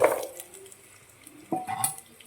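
Chopped potatoes and carrots tipped into a pot for an Easter chicken stew, then stirred, giving a few soft clattering knocks and scrapes of utensil on metal, fairly quiet with a brief stronger clatter near the end.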